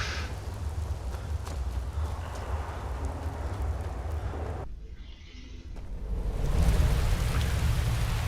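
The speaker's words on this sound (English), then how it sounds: "Oh, and it's pouring down with rain." Heavy rain pours down steadily in the video game Skyrim, a dense, continuous hiss that briefly drops away for about a second before returning just as strong.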